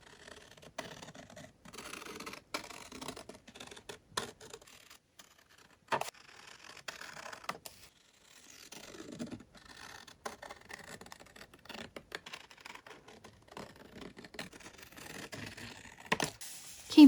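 Paper being cut with scissors for a junk journal folio: quiet, close, scattered crisp snips and light scratchy rustles at an uneven pace, with no voices.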